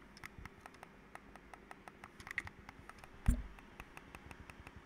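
Logitech K470 setup mouse buttons clicking quietly, a run of soft, regular clicks close by with one louder bump midway, no talk.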